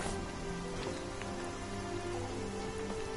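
Rain falling in the Natlan region of a video game, a steady, dense hiss of drops on surfaces that stays even and fairly quiet throughout, with no voices.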